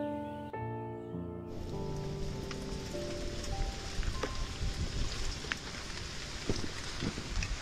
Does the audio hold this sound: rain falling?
yes